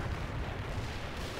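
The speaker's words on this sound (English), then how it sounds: "Oh, and more artillery." Artillery fire in the World in Conflict video game rolls out as a dense, continuous low rumble of heavy booms that blend into one another, loud and close, with no speech.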